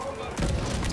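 A grenade in The Division 2 goes off with a single deep boom and thud that swells suddenly and lingers briefly, loud and close, with a voice nearby.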